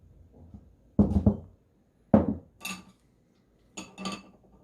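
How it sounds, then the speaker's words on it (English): A small bowl is handled while making the sauce for a Chinese cucumber salad, giving three short, close clinks and knocks spaced about a second apart, with quiet pauses between and no talking. "This is the small bowl I'm gonna use for the sauce."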